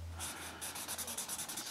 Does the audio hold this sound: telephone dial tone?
no